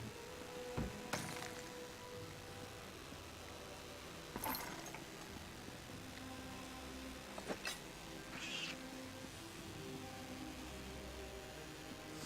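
Cats meow in the Summerset Isle setting of Elder Scrolls Online, with a few brief, faint cries scattered over a quiet game ambience with a low steady hum.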